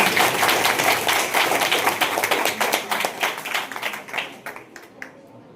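A crowd at a college handwashing day event bursts into loud, dense applause to welcome a street play team, the clapping thinning out and fading toward the end.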